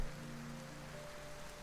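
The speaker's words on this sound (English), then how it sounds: "only the sound of rain could be heard" Steady rain falling, a soft continuous hiss with no pauses, faint and even throughout.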